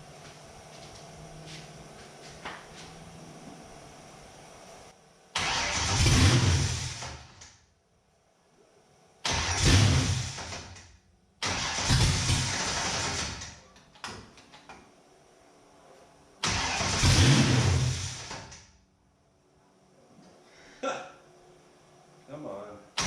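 A 1967 Ford Mustang engine cranks in four loud, separate bursts with quiet gaps between them, set against a low background hum, and a voice speaks faintly in the pauses.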